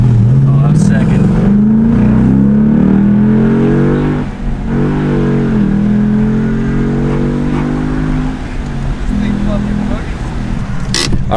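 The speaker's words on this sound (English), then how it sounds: "we're gonna do a little first gear pull" A 2015-2017 Mustang GT with axle-back exhausts pulls hard through first gear, loud and close, its revs climbing in repeated rising sweeps before easing off and settling.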